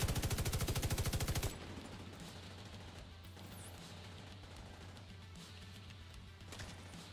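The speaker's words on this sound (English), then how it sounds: "Some shooting." Rapid machine-gun fire from a video game rattles loudly in one sustained burst at the start, then gives way to a dull, noisy background of distant game sounds.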